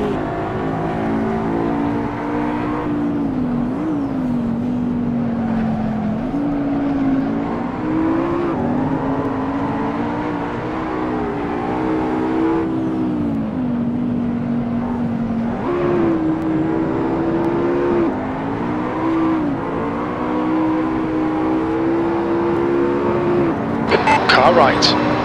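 A race car engine drones on track at the Red Bull Ring, heard steadily from onboard as the pitch rises and falls through gear changes and corners, while a voice talks over it throughout.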